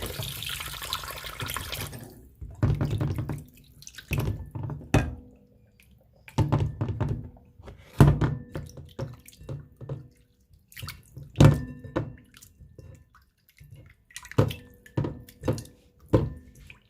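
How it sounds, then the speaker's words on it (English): Tap water runs into a sink in bursts as raw chicken breast strips are rinsed, with intermittent splashing, dripping and soft thunks of meat and hands against the basin, fairly close and with no talk. "I'm going to wash that off with water"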